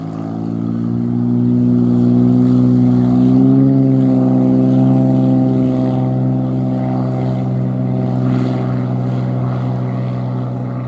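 A propeller airplane takes off from runway 17 at Cannes Mandelieu, its engine a loud, steady droning hum that swells and holds near the listener, then eases slightly as it climbs away.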